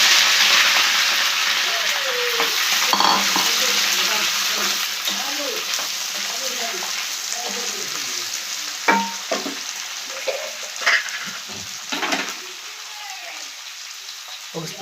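Ivy gourd pieces hit a hot tempering of chilli, cumin and spices and give a loud, crackling sizzle that slowly eases, with occasional sharp pops and stirring clicks.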